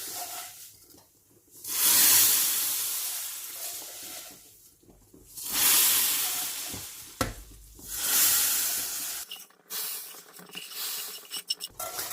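Golden-brown vermicelli fried in ghee hisses and sizzles in loud surges as it goes into milk, with stirring between the bursts, close and with no talk.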